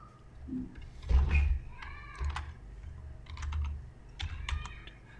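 Keys tapped on a computer keyboard in irregular bursts of quick clicks at close range, with quiet pauses between them.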